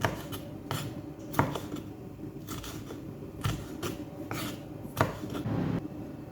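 A knife slices through a pepper on a cutting board in a string of light, irregular cuts and board taps, close and fairly quiet.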